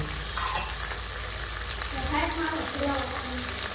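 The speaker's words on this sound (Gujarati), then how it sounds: "હવે શાક ચડે છે" Paneer curry (shaak) cooking in a pan, a steady soft sizzle with occasional stirring sounds that runs continuously at moderate level, with faint speech in the background.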